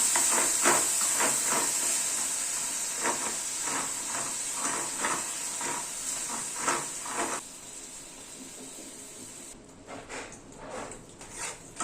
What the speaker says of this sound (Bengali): গ্যাসের ফ্লেমটাকে একদম লো রেখে চিনিটাকে আস্তে আস্তে ক্যারামেল করে নেব